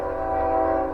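A train passes somewhere behind a rural farm property, a steady, continuous rumble with a faint sustained horn-like tone holding throughout, distant but clearly present.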